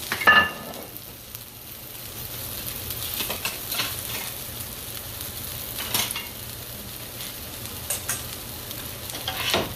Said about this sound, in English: Now I'm going to pan up my peppers and onions.